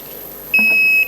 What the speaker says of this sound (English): while we start testing your buzzers